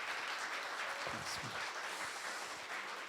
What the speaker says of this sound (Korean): 슬픔도 이겨낼 어떤 박수 힘차게 치면서 시작해 볼까요?